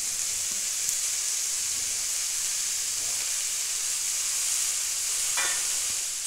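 Turmeric, peas and tomato added to a hot pan of fried vegetables for vegetable kofta curry give off a steady, close sizzle and hiss that holds evenly throughout, with a few faint scrapes of stirring.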